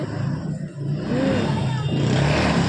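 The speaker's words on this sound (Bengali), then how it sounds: "ও বাইকগুলো যা জোরে জোরে যায় না" Motorbikes going fast along a road outside a home during the Rath festival day, a loud, close engine roar that swells and holds steady over a continuous low rumble.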